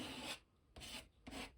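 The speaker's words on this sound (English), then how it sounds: "You can scrape the paint. It creates a very interesting texture." A credit card scrapes paint across an art journal page in three short, rough rasping strokes, each with a brief pause after it, faint and close by with no talk.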